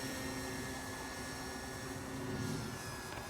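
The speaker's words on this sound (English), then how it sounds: "very gentle flying aeroplane" An Arrows Hobby Bigfoot radio-controlled model aeroplane flies low and slow, a steady distant electric whine with faint tonal lines over a constant wash of outdoor noise and wind.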